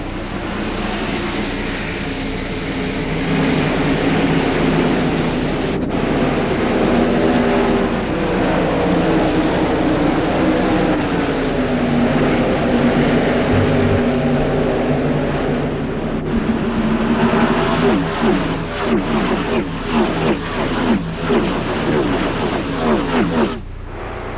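A field of 1994 NASCAR stock cars at the start of the Purolator 500 at Atlanta Motor Speedway gives off a loud, continuous engine roar. Pitch sweeps rise and fall as the cars pass, and a commentator talks over it.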